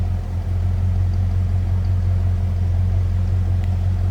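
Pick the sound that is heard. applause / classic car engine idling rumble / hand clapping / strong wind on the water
classic car engine idling rumble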